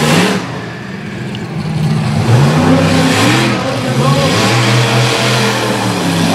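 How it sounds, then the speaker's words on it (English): Bigfoot monster truck, Lucas Oil sponsored, revving hard while spinning a donut at a Little Valley, New York show, a loud near engine with rising and falling pitch sweeps over a rumbling crowd. "Lucas Oil sponsored Bigfoot, cutting out a donut"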